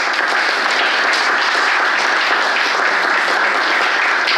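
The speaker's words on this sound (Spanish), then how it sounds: "Un aplauso para todos y todas." Steady, dense applause from an audience at a popular and non-formal education gathering marking an institute's 61st anniversary, a loud continuous wash of clapping with no pauses and no talking.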